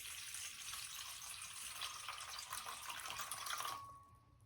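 Water is poured steadily for a few seconds during sourdough bread preparation, a soft continuous splashing trickle that ends abruptly near the close.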